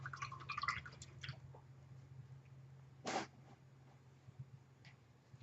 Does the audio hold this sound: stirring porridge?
no